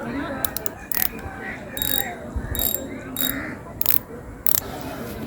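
A budget fishing reel with a metal spool and plastic parts is wound by hand. It gives a close, continuous ratcheting gear whir broken by sharper clicks, with no voice over it.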